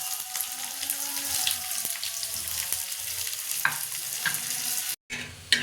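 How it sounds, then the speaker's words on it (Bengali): Chopped onions, two medium ones, sizzle and crackle on a hot griddle over cumin tempering, a steady loud frying hiss with occasional stirring scrapes and a brief dropout near the end. "এবার তাওয়াতে 2টো মিডিয়াম সাইজের পেঁয়াজ কুচি আমি দিয়ে দেবো।"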